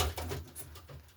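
Stock pigeon cooing in a breeding loft, a brief, soft, low throaty coo heard close and faint.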